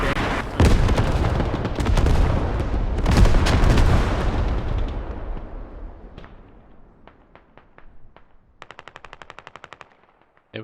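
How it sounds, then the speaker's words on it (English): A video game artillery barrage: loud, rolling blasts and booming impacts pile up at close range, fade into scattered distant cracks, and end with a rapid mechanical burst of machine-gun fire. "They took out the Logi with that artillery strike"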